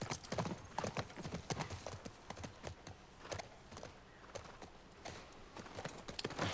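Horse walking in The Last of Us on PS5, steady clip-clop of hooves at close range, fairly quiet and alone.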